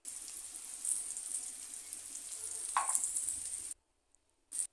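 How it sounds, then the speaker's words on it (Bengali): Sliced bitter gourd fries in oil with salt and turmeric, a steady bright sizzle with a brief stir, then it cuts to near silence before a short burst of sizzling returns. "তেলের মধ্যে ভেজে নেব।"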